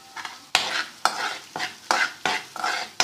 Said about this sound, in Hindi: थोड़ा सा इसको चलाएँगे